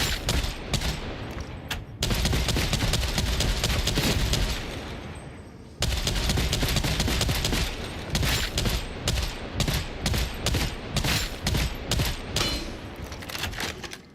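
A full-auto gun fires in the video game Darktide, long loud bursts of rapid close shots broken by short pauses, then a run of quick, evenly spaced shots.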